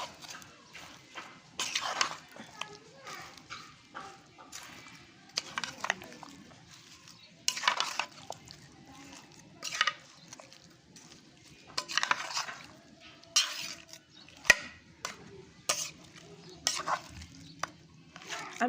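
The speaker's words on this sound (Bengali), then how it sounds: "প্রথম অবস্থা আমি চামচ দিয়ে একটু নাড়াচাড়া দিব" A spoon stirs and scrapes through beef masala for kala bhuna, irregular soft scraping and clinks in short bursts, fairly faint against a quiet background.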